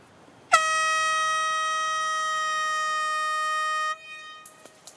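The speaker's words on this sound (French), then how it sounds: "Je vais donc les prévenir à travers un coup de corne de brume." A single sustained horn blast, used on the Koh Lanta survival game show to alert players, sounds loud and steady for about three and a half seconds and then cuts off abruptly.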